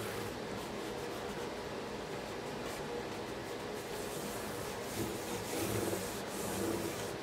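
Fingers rubbing food-safe finish onto the wood of a Martin 12-string guitar, a soft continuous close-up friction sound with a faint background hum throughout.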